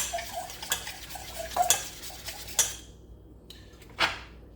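A utensil stirs herb butter with olive oil in a bowl, making clinking and scraping taps in an irregular rhythm, close and fairly quiet, with brief pauses between strokes.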